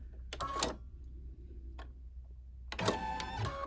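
An embroidery machine stitches the outline around a St. Patrick's Day coaster design, attaching the backing. Two bursts of whirring mechanical stitching, one short and one longer, are separated by a quieter pause.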